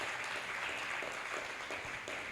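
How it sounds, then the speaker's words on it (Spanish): A church congregation applauds during a Spanish-language sermon, steady dense clapping from many hands at moderate volume, continuous through the short stretch. "Dele un aplauso al Señor."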